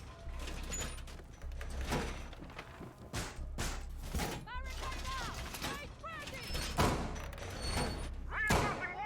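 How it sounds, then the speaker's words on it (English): Wall reinforcement during a competitive tactical shooter round, a series of mechanical thuds, clanks and sliding metal pieces over a low hum, with scattered background game sounds. "Reinforcing wall!"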